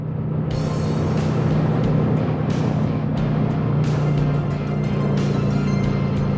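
A 2007 Kawasaki Vulcan 900 LT motorcycle on the move, its engine a steady low drone with wind rush over it, fairly loud and continuous, with a few brief bumps and no talk.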